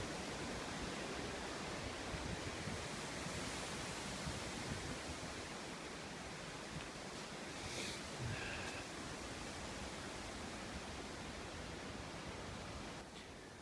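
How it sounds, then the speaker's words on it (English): Continuous roaring rush of strong wind buffeting the microphone at a wild hammock campsite, steady and unbroken throughout, with no voices. "So windy."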